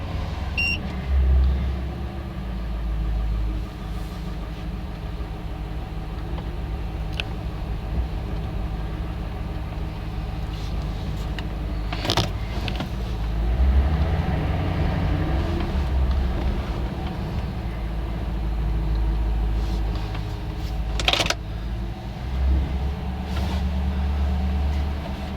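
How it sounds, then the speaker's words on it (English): A 2010 Ford Crown Victoria Police Interceptor engine idles with a steady low rumble, heard up close for about 25 seconds with no talk. "The car starts up and runs like a brand new vehicle."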